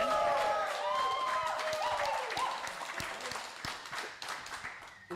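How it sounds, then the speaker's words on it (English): A few hands clap at a slow, uneven pace at a small gathering, the sharp claps coming through over voices and a tonal background that fades as the claps continue. "you're a little slow with the clapping, Sadie, just so you know"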